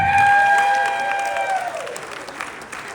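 Crowd applause and cheering at a reunion farewell dinner, strong at first and then thinning out as clapping fades; a sustained tonal whistle or feedback note rings over the start.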